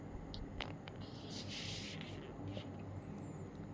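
Pen scratching over paper while working a maths problem, soft and close, in short irregular strokes with faint rubbing between them and no talking.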